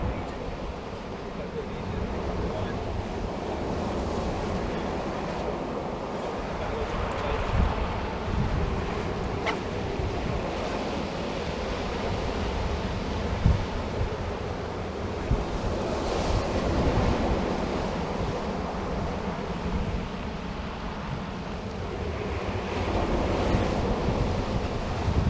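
Constant wash of waves and gusting wind on a choppy sea at Norman's Bay beach in the UK, with heavy wind buffeting on the microphone throughout and no talk.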